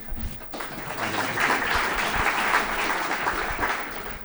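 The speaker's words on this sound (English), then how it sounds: "So applause to him." Applause breaks out for a speaker at a business talk on AI, rising abruptly after a brief pause and holding as a full, even ovation from a sizable audience.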